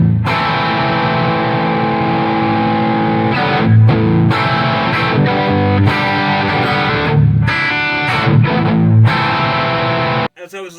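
Electric guitar on a Gibson Les Paul copy driven through a Tone Priest 5-watt Evangelist overdrive pedal into a Tone Priest Prince of Darkness amplifier, loud sustained distorted chords and riffs played continuously, then stopping abruptly near the end.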